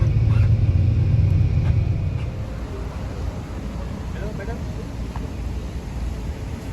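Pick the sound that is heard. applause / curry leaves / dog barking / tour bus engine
tour bus engine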